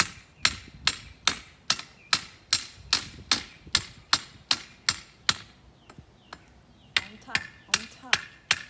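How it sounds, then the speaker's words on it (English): A hammer strikes the top of a garden pole being driven into the ground, about twenty sharp, loud metallic knocks in a steady rhythm, a brief pause and then a few more blows. "We're using a hammer."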